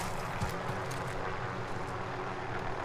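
Helicopter flying in a battle royale shooter, a steady low engine and rotor drone holding evenly throughout, fairly distant and unbroken.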